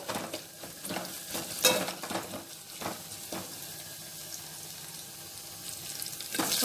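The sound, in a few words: onion pieces frying in a pan for dal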